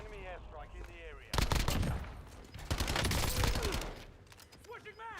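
Heavy bursts of video game gunfire erupt suddenly and rattle on loudly, then ease off, with a person speaking before and between the shots.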